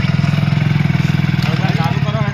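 A motorbike engine runs in a steady, loud, throbbing idle close by, with a rhythmic pulse throughout. People talk over it.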